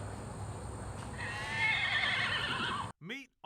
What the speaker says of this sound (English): The brother and sister are Tennessee Walker horses that Blackwell, Oklahoma native Sean Herren raised since birth